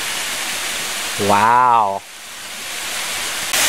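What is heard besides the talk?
water flowing, waterfall in forest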